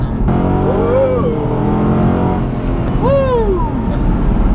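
A 2008 Ford Mustang GT pulls hard and loud from inside the cabin, its engine droning steadily while a voice briefly exclaims over it.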